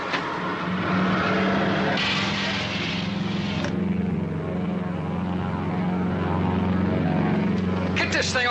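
Propeller aircraft engines drone loudly and steadily throughout, a continuous low hum with a brief higher whine partway through and a clatter near the end.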